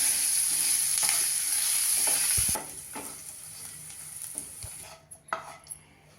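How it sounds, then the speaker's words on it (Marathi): Onion sautéing with salt in a pan for bun dosa batter sizzles steadily at close range for a couple of seconds, then quietens to softer frying with scattered clinks and scrapes of stirring, with no voices. "आपल्याला कांद्याचा रंग जास्त बदलून लाल करायचा नाही आहे अगदी दोन तीन मिनटंच आपल्याला तो परतून घ्यायचा"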